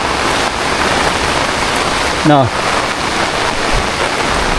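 Heavy rain pours steadily over crops on a farm, a dense, loud hiss of drops throughout, with a brief voice-like whistle partway through.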